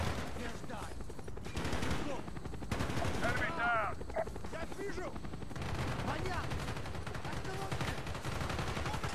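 Rapid bursts of automatic gunfire from Call of Duty Black Ops crackle almost continuously, loud and dense, with a voice talking over parts of the shooting.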